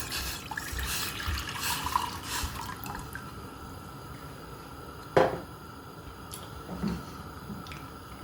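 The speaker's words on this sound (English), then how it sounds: "So I'm going to add a cup and a half of water." Water pours from a tap into a pot for pimento leaf and cinnamon tea, making a steady splashing rush with a couple of clinks partway through.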